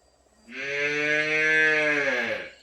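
A single long, loud moo from a calf, close by, rising and holding for about two seconds before fading out.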